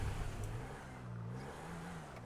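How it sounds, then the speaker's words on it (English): A car engine starting and revving in the video game Eclipse RP, a faint, steady low engine hum with a slight rise and fall in pitch. "I have to start my engine again."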